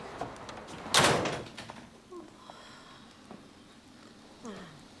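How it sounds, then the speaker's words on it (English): A door is pushed shut in a quiet interior room with a single loud thud near the start, followed by faint creaks and small knocks, while a voice murmurs faintly in the background. "And close the door."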